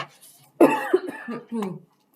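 A couple of close, throaty coughs in quick succession, with a faint voice murmuring around them.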